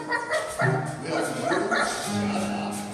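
A dog sound effect in a college radio theatre production, short yips and whimpering barks mixed in among overlapping actors' voices.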